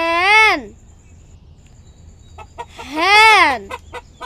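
A hen clucks in two short bursts separated by a quiet gap, close and fairly loud, the second call followed by a few scattered clucks.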